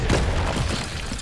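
An Incendio fire spell in Hogwarts Legacy bursts out as a brief, loud whooshing blast of flame that fades quickly, filling the short moment with a rough, broadband roar.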